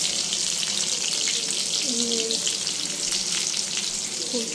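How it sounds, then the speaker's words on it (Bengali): Bata fish cooking in a pan with ground onion paste: a continuous, even frying sizzle and hiss holds steady from start to finish, close and moderately loud, with faint tonal clinks now and then. "একটা মাছ রান্না করতেছি, বাটা মাছ"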